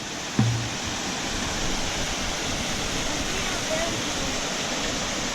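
A waterfall at night roars as a steady, loud, broadband rush that fills the whole clip, with a brief knock near the start and faint voices buried under the water.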